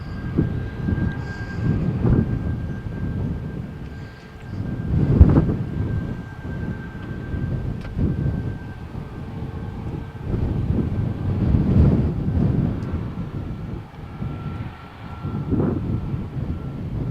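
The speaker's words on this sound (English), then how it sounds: "Here the Ryanair is now taxiing for takeoff." A Ryanair airliner taxis for takeoff at Malaga Airport on a stormy, windy day, and its engines make a steady low rumble and whine that is heavily buffeted by gusts of wind noise across the microphone.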